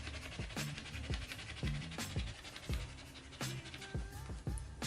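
A litter of six newborn puppies pants in quick, rhythmic breaths close to the microphone, with faint scratching and shuffling among them and no talking.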